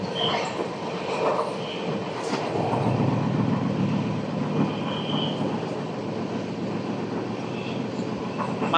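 Narayanadri Super Fast Express (12734) running past Nellore South station without stopping, a steady on-board rumble of rolling wheels with faint clanks and a brief high squeal near the start.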